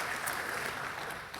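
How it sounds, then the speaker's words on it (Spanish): Audience applause from a church congregation, a steady wash of clapping held at an even level throughout, with no voices over it. "Un gran aplauso para ellos."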